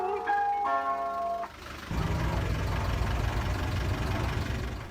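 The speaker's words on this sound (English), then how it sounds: "the sound of the ice cream truck is super nostalgic to many British people" A British ice cream truck plays a bright, tinkling chime melody for about a second and a half. The tune then cuts off and gives way to the steady rumble of the idling engine.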